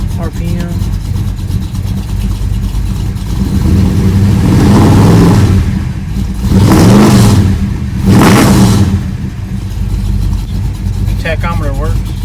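V8 engine in a swapped Chevrolet S10 truck revving in three strong bursts, rising and falling, between a steady idle, close and loud.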